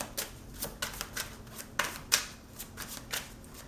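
A deck of tarot cards is shuffled close by in a run of quick riffling bursts and soft flicks, with irregular crisp pulses and no speech.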